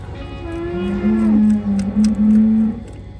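Beef cows in a hoof-care setting give a long, deep, drawn-out moo that wavers in pitch, sounding loud and close against a steady low background hum.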